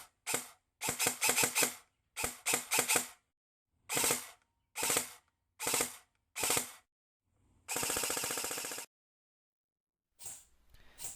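A G&G CM16 SRL airsoft rifle test-firing with no talk: several rapid full-auto bursts of sharp snapping shots, separated by short single and few-shot strings, then one longer sustained burst, close and loud.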